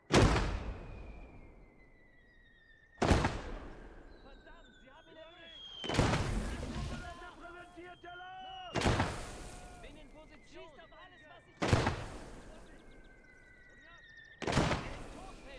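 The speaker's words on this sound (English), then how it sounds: "let's get the boys ready to fire. Mortars away." Mortar fire in a WWII real-time strategy game: six loud, sharp booming launches spaced about three seconds apart, each followed by a decaying rumble, with whistling shell tones and soft game effects between them.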